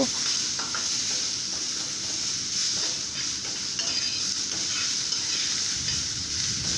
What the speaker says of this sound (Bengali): দিয়ে দেবো পেঁয়াজ কুচি। দিয়ে এগুলোকে একটু ভালো করে ভেজে নেব।